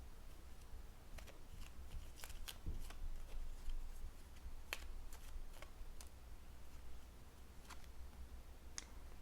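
Oracle cards riffled and shuffled at close range in a steady run of soft, quiet papery flicks and taps over a low background hum, with no voice.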